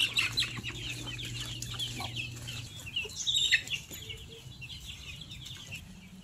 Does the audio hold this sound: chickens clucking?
yes